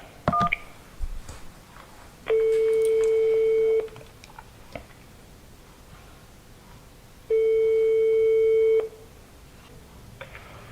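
Telephone call to the French boxing federation, with a short burst of keypad tones, then two long steady line tones several seconds apart, loud and clear with no talk over them.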